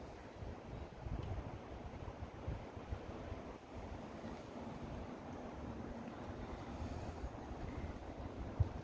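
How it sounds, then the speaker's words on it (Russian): Strong wind roars steadily through forest treetops in early spring, a dense, continuous rushing with gusts swelling and easing, no voices. "очень сильный ветер."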